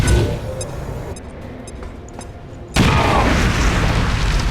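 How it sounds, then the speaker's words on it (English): Incendiary grenade bursting in XCOM Long War of the Chosen: a sudden loud broadband blast that cuts in midway and keeps roaring as a sustained crackling burn through the rest of the clip, following quieter game ambience. "I think an incendiary grenade is just the ticket."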